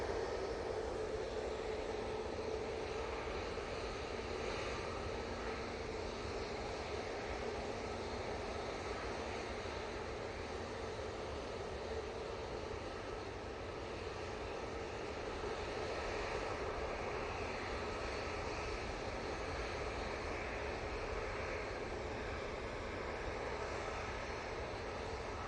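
A fixed-wing airliner approaches Manchester Airport, a steady broad engine roar with a faint whine that stays even and fairly distant throughout, with no voices.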